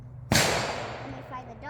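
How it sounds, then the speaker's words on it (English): A single sharp handgun shot fired at a shooting range from 10 yards, close and loud, with a sudden burst that decays into a ringing tail over about a second and a half. "I'm at 10 yards and I'm gonna shoot the best group I can."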